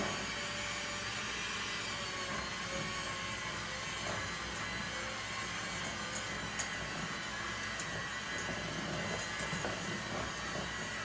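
A steady electric hand mixer whirs continuously at moderate volume as its beaters work through a no-bake banana split filling, with a faint scraping texture and no talking.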